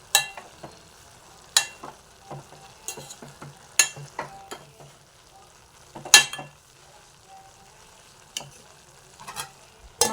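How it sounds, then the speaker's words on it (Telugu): A spoon stirs broad bean curry simmering in a pan, making irregular scraping taps and clinks against the metal over a soft, quiet bubbling hiss. "మళ్ళీ కొద్దిగా కలుపుకొని మగ్గనివ్వాలి."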